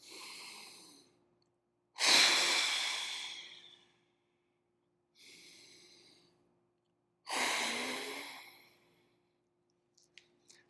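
Forceful breaths pushed out through the nose while holding a plank during a hip mobility warmup, four separate exhales in a slow rhythm, close and clear, with short silent pauses between them.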